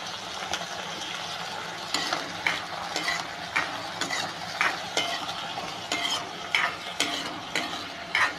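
Crushed turkey berries sauté in oil in a pan, a steady close sizzle broken by repeated scrapes and clinks of a spoon stirring against the metal.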